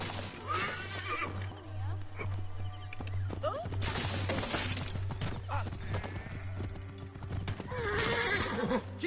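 Horses in a chariot-racing video game whinny loudly over rapid clip-clopping hooves, with repeated neighs standing out near the start, middle and end against a steady low engine-like hum.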